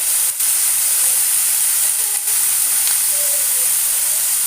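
Banana peels sizzle in a hot pan with a loud, continuous hiss of frying and steam, broken by two brief dips and a faint squeak, no talking.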